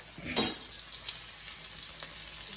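Beef fat rendering into tallow is stirred in a pot: a continuous bubbling sizzle with a sharper scrape of the utensil early on, close and alone, no talk.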